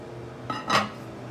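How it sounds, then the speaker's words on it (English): A spoon scrapes and knocks inside a pot of pork stew, followed by one bright clink of the lid going back on, short and close against a low background hum. "I'm gonna stir it, and seal it again, and let it continue to cook"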